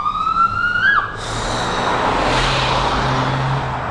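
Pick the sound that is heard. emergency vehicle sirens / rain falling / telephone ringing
emergency vehicle sirens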